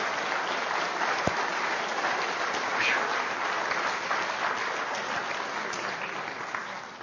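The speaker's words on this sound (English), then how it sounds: "let's all give Allison a nice round of applause" An audience clapping steadily, a dense sustained round of applause that fades slightly toward the end.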